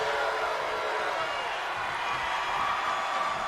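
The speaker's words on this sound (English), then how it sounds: "Gotta love the rowdy crowd here, of course. The passionate LA crowd" A steady, rowdy arena crowd roars in a WWE 2K20 wrestling video game, a continuous hissing wash of cheering with no clear peaks.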